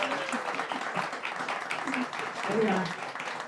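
Wedding ceremony guests break into applause, a soft, continuous patter of clapping from a crowd, moderately distant, while a voice speaks briefly over it.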